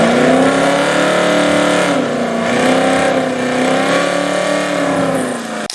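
A 1967 Pontiac Firebird 400 with a 6.6-liter V8 revs loud and close, a sustained throaty roar that rises and falls in pitch before cutting off abruptly.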